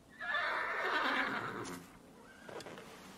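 A black horse in a stable box gives one loud, close neigh lasting over a second, trailing off into a softer snort, with no talk.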